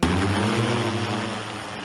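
The Baba Yaga, a heavy military drone, flies with a loud, steady, droning buzz from its propellers that holds for the whole stretch.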